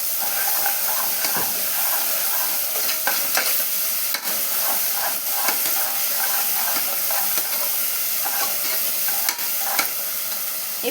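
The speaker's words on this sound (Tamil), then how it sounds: "இப்போ இதை நல்லா கலந்து வச்சுக்கலாங்க." Chicken dum biryani being stirred and mixed in a pot, a loud continuous sizzle and hiss with repeated scraping and clinking of the spoon throughout, and no voices.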